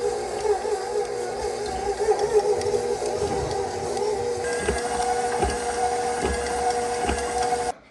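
Crushed cookies being mixed for cake pops produce a steady mechanical whir with tonal hum for about eight seconds, with light knocks and clatter in the second half.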